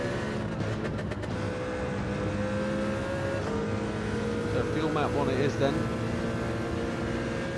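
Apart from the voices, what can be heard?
Mercedes race car engine in Gran Turismo 7 video game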